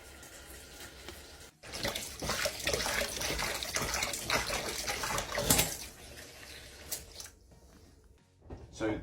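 Hot tap water runs steadily into a sink while dishes are washed up with washing-up liquid, a continuous splashing rush with a brief pause and some clattering near the end.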